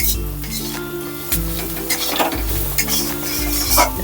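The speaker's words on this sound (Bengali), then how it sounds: "1/2 চামচ লাল লঙ্কার গুঁড়ো দেবো, দিয়ে আরও কিছুক্ষণ আমি নেড়ে নেব" Spice powders, coriander and red chilli among them, fry over very low gas in a pan for a jackfruit-seed bhorta. A dense, continuous sizzle plays under repeated stirring scrapes and faint clinks of the spoon against the pan.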